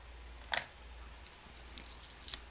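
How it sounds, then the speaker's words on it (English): Scissors snip through the card backing of a tarot deck's packaging in a few quiet, sharp cuts, spaced irregularly against a faint room background. "I'm gonna get my pair of scissors and just snip away."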